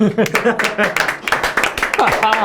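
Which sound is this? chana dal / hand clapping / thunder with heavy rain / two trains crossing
hand clapping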